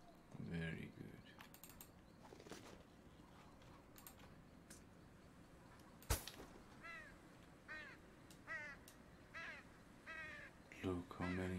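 Crows cawing in the fantasy video game Legends of Aria, a series of harsh repeated caws over faint keyboard typing, mixed with talk from players.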